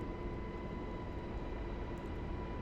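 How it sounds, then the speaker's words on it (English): Steady droning helicopter rotor and engine noise carried over a radio channel in a flight simulation game, a continuous broadband hum with a faint tonal whine, moderately loud and alone throughout. "I can hear your helicopter in the background of your radio"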